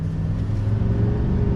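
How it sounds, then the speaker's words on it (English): A 2020 Chevy Silverado 2500 HD turbo diesel truck accelerating on a road, a steady low engine rumble that builds slightly, heard from close with no talking. "let's go ahead and do another acceleration test"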